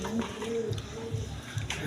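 Silver pigeon sitting on a clutch of two eggs gives a few low, soft coos in quick succession, close by.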